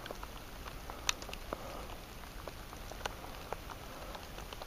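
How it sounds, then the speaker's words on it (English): Rain falls outdoors in the woods, a soft steady patter with scattered sharper drops landing nearby on leaves and surfaces, quiet and without voices. "And no luck. And now it's raining."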